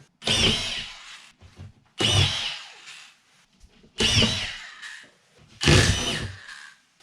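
Power drill driving screws into the tapered edge of a drywall sheet: four loud, close whirring bursts of about a second each, separated by short pauses.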